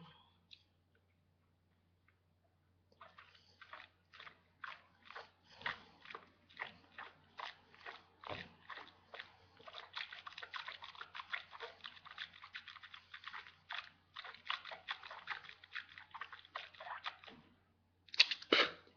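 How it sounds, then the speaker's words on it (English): Vigorous swishing of coconut oil in the mouth during oil pulling, a long run of quick wet clicking, slurping pulses close to the mic, ending with a brief louder spit burst. "You want to swish, swish really hard, just like if you're gargling."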